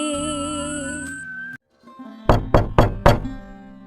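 Someone knocks on a house door in a Hindi devotional ghost story. After a fading musical chime and a brief silence come four firm, close knocks in quick succession.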